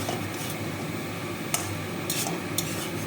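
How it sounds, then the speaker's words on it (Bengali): Poppy seed paste being stirred into cooked stalks in a pan, giving soft scraping and faint sizzling with a few light clinks of the spoon against the pan, close and steady. "পোস্তটা দিলাম, এবার নেড়ে চেড়ে"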